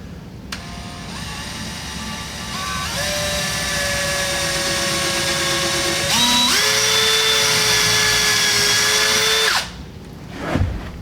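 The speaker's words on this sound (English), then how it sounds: "And get your drill. A little drill bit." A cordless drill whines loudly and steadily while boring a small starter hole during a dishwasher installation, its pitch stepping up twice before it stops, then a short clunk.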